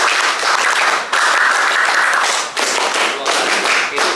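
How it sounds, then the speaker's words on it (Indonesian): A group of public school students performs the Pramuka scout clap in a classroom, with dense bursts of hand clapping separated by brief pauses in a patterned rhythm. "Dua kali tepuk pramuka."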